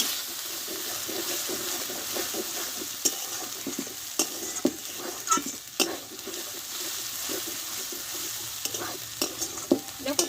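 Dried red chili paste and ground cumin frying together in a pan for a Bengali-style chicken dish, with a steady loud sizzle broken by repeated scraping stirs of the spatula.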